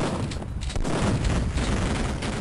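Shotgun fire in the first-person shooter Duke Nukem 3D, played on a user-made level: dense, loud blasts pile up into one continuous roar that fills the whole moment without pause.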